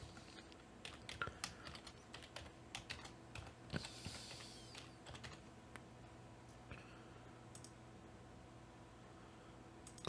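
A master password is typed on a computer keyboard as a quiet run of rapid key clicks over a faint steady hum, with the taps thinning out toward the end.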